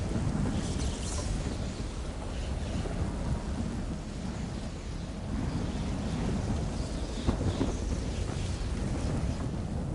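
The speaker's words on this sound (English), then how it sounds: "Now you get the lightning!" Thunder rumbling through a storm in The Elder Scrolls Online on PlayStation 5, a steady loud roar with rain and wind noise and a few sharper cracks, no voices.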